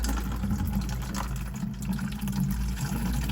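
Rainwater gushes from a pipe attached to a 55-gallon collection barrel to water container plants, a steady, close splashing pour with a low constant rumble underneath.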